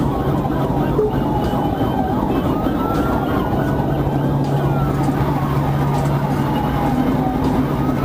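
Wailing police patrol car siren, sweeping up and down steadily over road noise, from a trooper's vehicle on an interstate pursuing a stolen white Kia Seltos.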